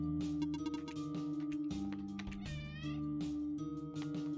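Cats meowing in the OneShot video game, several mews and a drawn-out caterwaul layered over steady game music, close and fairly loud throughout with no talking.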